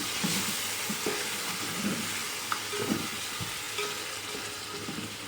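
Whole spices such as cinnamon pieces, cloves and black peppercorns sizzle in a pot for chicken pulao while a spoon stirs them, a steady close frying hiss broken by soft scraping clicks, with no talking.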